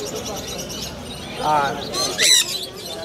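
Birds squawk and chirp in short bursts at the Mirpur 1 bird market in Dhaka, some close by, over the constant chatter of voices and a crowd murmur.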